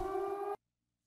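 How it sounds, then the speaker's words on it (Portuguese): In the video game Zompiercer, a siren blares a steady, loud electronic wail with strong sustained tones for about half a second, then cuts off abruptly into silence. "E essa sirene já tá extremamente irritante"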